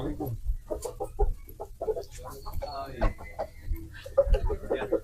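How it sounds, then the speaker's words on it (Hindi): Chickens clucking and a rooster calling on a farm, close and repeated in short bursts, with someone talking over them. "सामने कुछ इस फार्म पे मुर्गियां वगैरह हैं"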